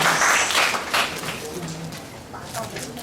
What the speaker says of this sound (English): Let's give Ajahn Tayalak a round of applause.